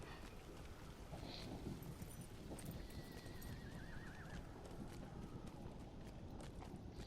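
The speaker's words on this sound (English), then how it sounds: "we are riding on a goat in Minas Tirith" A goat mount in the video game LOTRO trots through Minas Tirith, with faint, rhythmic hoof clip-clops buried under a steady wash of ambient game noise and a few thin whistling tones.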